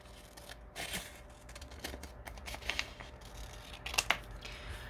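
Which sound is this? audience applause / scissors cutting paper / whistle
scissors cutting paper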